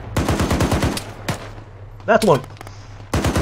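Machine gun bursts rattle off in rapid runs in a military combat video game, a fast string of shots at the start, a lone crack mid-clip and another burst at the end, with brief voices shouting between them.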